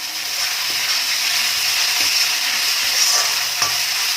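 Cabbage and mixed vegetables fry in a hot pan while being stirred, a strong continuous sizzle broken by a few soft scraping strokes of the spatula, close and steady.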